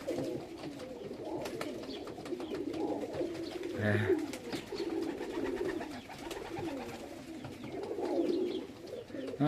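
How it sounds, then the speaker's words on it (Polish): Pigeons coo in a continuous low, rolling murmur, several birds overlapping close by, with a brief flutter midway. "teraz już tak na bieżąco cały czas gołębie schodzą"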